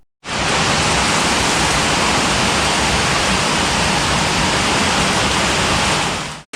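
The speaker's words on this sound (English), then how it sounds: "Once back inside, the rain really started picking up." Heavy Hurricane Ian rain in Murrells Inlet, South Carolina, roars in a loud, even, unbroken wash of noise that starts and stops abruptly. No one speaks.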